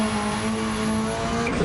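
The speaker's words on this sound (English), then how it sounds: "The way it banged off the limiter there." An engine-swapped Subaru with a fully upgraded race engine in Gran Turismo 7 holds a steady high-pitched drone near its peak revs and stays loud and close throughout, with a slight stutter toward the end.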